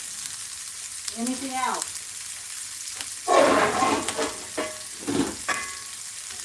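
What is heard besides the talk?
eggs, shredded beef and veggies frying in skillet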